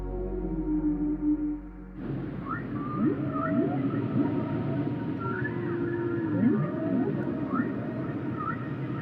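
Whale song sounds in deep water: long moaning calls and sweeping upward and downward wails, with higher squeals over a steady low undersea rumble, lasting throughout after a brief low drone at the start.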